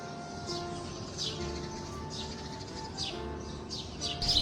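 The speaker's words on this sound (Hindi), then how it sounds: "यहाँ पर आपको बहुत सारे परिंदों की" Many birds chirp and tweet around an old fort wall in Hyderabad, Sindh, with short bright calls repeating every half second or so over a steady low outdoor hum, moderately distant and without voices.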